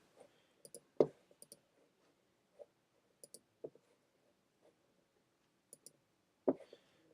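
A computer mouse clicks sharply and sparsely in a quiet room, a dozen or so isolated clicks, some in quick pairs, close and alone.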